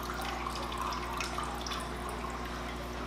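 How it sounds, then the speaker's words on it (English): Water trickles through a siphon tube into an aquarium as a soft, steady, faint flow with small drips, continuous and without talking. "So it's just a little trickle."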